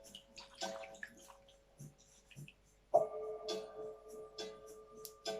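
A cloth is dipped into a bowl of water and wrung out during a facial ritual, giving a sudden soft splash and trickle midway, amid quiet handling sounds and faint talk.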